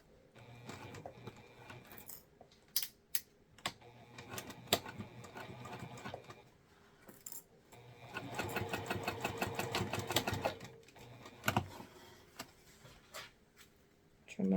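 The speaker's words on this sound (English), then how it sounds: "I'm going to sew directly on top of that line" A sewing machine runs in bursts as it stitches along a marked line on a baguette-style handbag, with a sustained faster run in the middle and small handling clicks between stretches.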